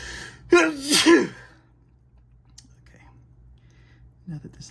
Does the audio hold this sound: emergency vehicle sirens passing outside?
no